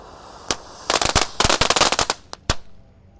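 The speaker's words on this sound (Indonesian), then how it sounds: "Di sini ada Conic Fountain air mancur kerucut ukuran 3 inci guys." A 3-inch conic fountain firework burning at night during Ramadan, with a rapid burst of loud, sharp crackling pops clustered over a couple of seconds before tapering off into quiet, close and without speech.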